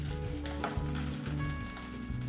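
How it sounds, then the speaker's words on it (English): Beetroot, quinoa, couscous and oat cutlets shallow fry in a spoonful of oil in a pan, giving a steady, continuous sizzle with a faint tonal hum underneath. "Now I am frying on both the sides."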